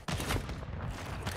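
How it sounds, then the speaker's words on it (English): Dense, sustained gunfire from a tactical video game shooter, with rapid overlapping shots that stay loud and close throughout. "Taking effective fire."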